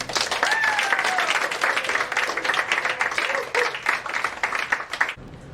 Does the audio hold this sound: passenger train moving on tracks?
no